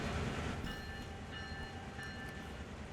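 Empty coal train in Train Sim World 2 rumbles along with a low, steady rolling noise, a faint high tonal squeal or horn-like line coming and going over it, moderately distant.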